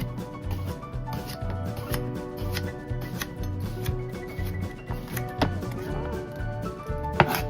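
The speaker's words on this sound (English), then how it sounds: "Excuse me, cucumber. We're gonna just go ahead and give nice even slices." A knife slicing a cucumber into thin, even slices on a cutting board, heard as a quiet, steady run of short chopping taps with no talk.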